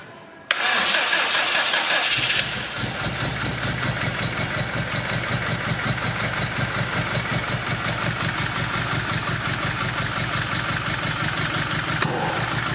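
Subaru Impreza GT engine cranking on a starting attempt with suspected swapped ignition signals: a loud starter whir kicks in abruptly and continues as a steady rhythmic chugging for several seconds without catching, alone with no talk.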